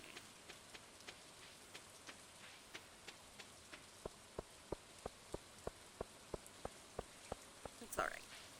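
Rain falling in the farming game Stardew Valley, a soft steady patter with a regular series of sharp ticking drops across the scene and a brief louder burst near the end, with no talking.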